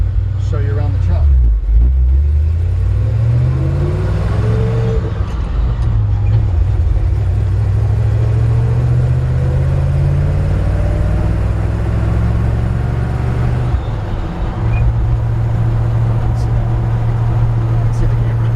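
A 1964 Chevrolet C10 pickup with a four-speed Saginaw floor shift drives down the road, its engine and exhaust a steady close rumble that rises and falls through gear changes, with a voice now and then over it.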